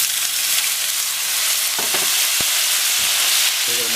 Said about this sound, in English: So then we're going to drop the shrimp in.